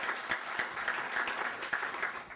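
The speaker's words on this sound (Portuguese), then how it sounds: "Vou pedir a vocês que aplaudam a disciplina desses candidatos" A debate audience applauds the candidates with dense, steady clapping that holds for a couple of seconds without a break.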